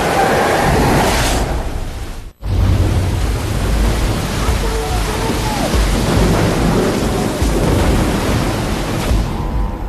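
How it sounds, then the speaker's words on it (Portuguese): Storm at sea off the coast of Africa: loud, steady roar of wind, rain and surf with rumbling low noise, broken by a sudden brief silence early on, then continuing unbroken to the end. "Pego numa tempestade perto da costa da África"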